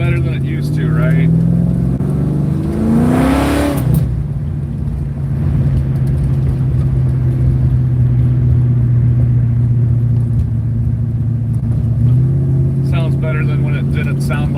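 A Plymouth Cuda's engine drones steadily while driving on the road, with a brief rise in revs early on and a steady cruise afterward, close and loud, with people talking over it at the start and near the end.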